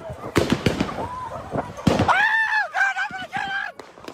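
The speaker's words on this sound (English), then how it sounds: "This video shows hundreds of people running for their lives as a barrage of gunfire echoes around them" Gunfire at an unpermitted block party in Orange Mound, Memphis: several sharp, echoing bangs in quick succession, followed by loud, rising screams from the crowd.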